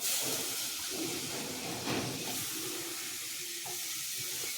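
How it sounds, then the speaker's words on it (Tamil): Tomato, kuzhambu powder and dried vathal frying in oil for a village-style vathal kuzhambu, giving a steady close hiss and sizzle with a brief louder burst of spattering near the middle, no talking. "மூணு ஸ்பூன் குழம்பு பொடி போட்டுக்கிறேன் எண்ணெயிலே ஒரு நிமிஷம் கிண்டிக்கும் இந்த ஊர்ன வத்தலை இதில் சேர்த்துக்கிறேன்"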